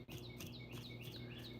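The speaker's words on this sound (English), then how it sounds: "You hear that cute little bird?" Small bird chirps outside an open door, a quick series of short, bright tweets repeating rhythmically over a faint indoor hum, fairly soft and alone.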